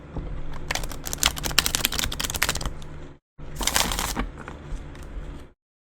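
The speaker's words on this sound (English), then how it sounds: "So I'm going to go ahead and shuffle here." Tarot cards are shuffled in quick, crisp riffling bursts, two runs separated by a brief pause, close and fairly quiet.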